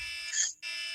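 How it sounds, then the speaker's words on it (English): A teenager's electronic alarm clock rings with a loud, harsh buzzing tone that cuts out briefly and then resumes. "that's my son's alarm clock"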